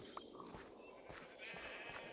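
In Minecraft, faint sheep bleats drift in under a busy bed of game noise, with a brief louder cry near the start and a softer one later on.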